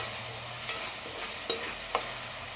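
Ginger garlic paste for chicken curry stirred in a pan over low flame, with a steady sizzling hiss and a few light spoon scrapes at an even pace.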